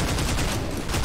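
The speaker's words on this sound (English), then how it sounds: "Explosions, gunfire." Dense rapid gunfire and explosive bursts from the video game Entropy Zero 2, a continuous loud barrage of overlapping shots with no pauses.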